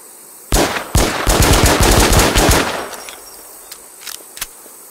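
Loud, close gunfire from the survival shooter Infestation, a rapid rattling volley of shots for about two seconds, then a few sparse clinks and isolated reports fading out.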